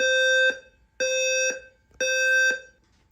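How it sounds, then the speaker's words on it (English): A building fire alarm inside a home system sounds three loud half-second electronic tones in a steady even rhythm, each followed by a short pause, with no talking. "the fire alarm has been activated in the building"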